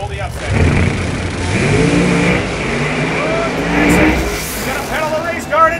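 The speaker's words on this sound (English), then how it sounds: "He's gonna pedal the race car" Nitrous-boosted radial drag race car launching and accelerating down the strip at a drag racing finals event, a steady loud engine roar under continuous excited commentary from an announcer.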